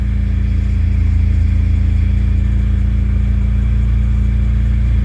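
A car engine runs steadily after its fuel pump was replaced, a loud continuous low hum with a constant tone and no pauses or revving changes.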